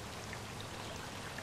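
Rain falls in Minecraft as a steady, soft hiss of dense drops, even and continuous throughout, with no voices.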